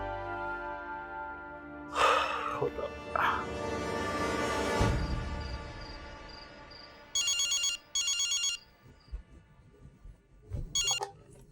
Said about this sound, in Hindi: भाई की कॉल है।